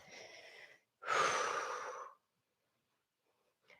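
Two breathy exhales during a yoga half split, the second one longer and stronger, close and clear, with silence between them and after.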